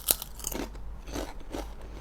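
Close, crisp crunching of Chipsy Tiger sweet chili potato chips, one sharp bite followed by several softer chewing crunches spaced about half a second apart, without speech.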